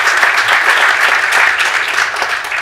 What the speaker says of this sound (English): A round of applause for Shorty.